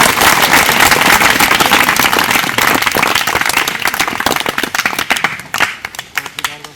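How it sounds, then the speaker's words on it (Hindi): Loud, close clapping from an audience at a school forest-experience programme, a dense burst that thins toward the end into scattered individual sharp claps, no talk heard. "समिता राजोरा मैडम के लिए जोरदार तालियां बजाएं।"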